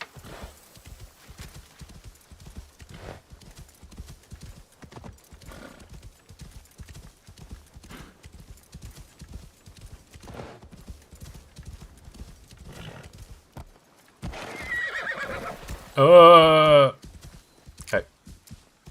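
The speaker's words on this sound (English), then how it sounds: "But my horse is here?" Horse in the video game Assassin's Creed Shadows, soft rhythmic hoofbeats clip-clopping at a steady pace, then a sharp loud neigh near the end, with a person talking over parts of it.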